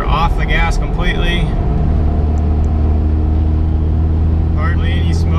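A compound-turbo Cummins diesel engine in a truck spooling under acceleration uphill, giving a steady loud drone with rising turbo whistle, while someone talks over it at the start and end.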